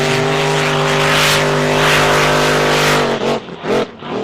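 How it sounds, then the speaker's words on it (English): A racing boat engine roars loudly at full throttle during the Marj Watson boat race, a steady harsh drone that wavers and pulses near the end. "it's a very, very loud boat out there under full noise"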